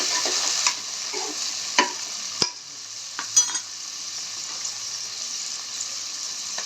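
Onion, garlic and tomato sauté in a pan for mutton curry, giving a steady, close sizzle with a few soft spoon scrapes and clicks, and no talking.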